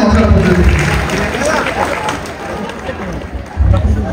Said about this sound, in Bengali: হাততালি দিয়ে দাও সবাই একসাথে, হাততালি দাও